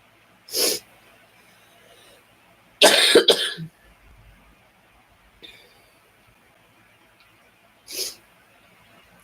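Coughs from a woman just over the flu, three separate harsh bursts spaced a few seconds apart with a double cough in the middle, close-miked with quiet gaps and no talking between.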